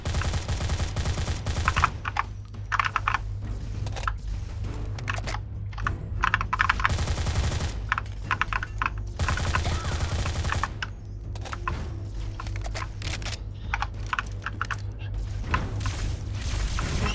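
Turret gunfire in a Fallout 3 Mothership Zeta weapons lab and control room, with bursts of rapid mechanical shots and clattering over a steady low hum, continuing in uneven volleys throughout.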